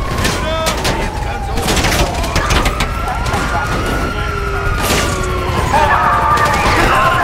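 Police gunfire in the video game GTA 5 crackles in dense bursts of shots amid car noise and siren-like tones, loud and continuous, with someone talking over the chaos.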